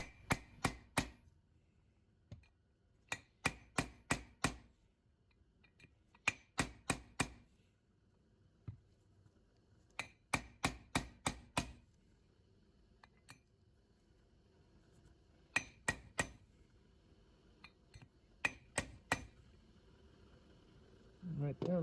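A coated bushing is hammered into a 4L60E automatic transmission case in repeated bursts of sharp metallic taps, several quick strikes per group with pauses between, close and clear over low room noise.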